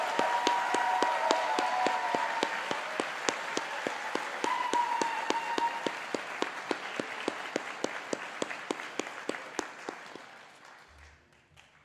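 Sustained applause from the audience at a Faculty of Computer Science university convocation, a dense, steady clapping that gradually thins out and fades near the end.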